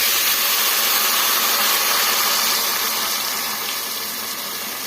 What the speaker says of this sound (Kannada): ಮೇಲೇನೆ ಈ ಥರ ನೀರು ಸೇರಿಸ್ಕೊಂಡ್ಬಿಡೋಣ